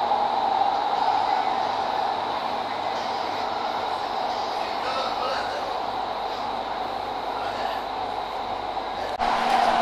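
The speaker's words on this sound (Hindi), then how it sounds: "कितना तेज़ी से चल रही है ट्रेन" Doha Metro train running, a steady loud rumble and rush of motion sustained throughout, with faint talk mixed in.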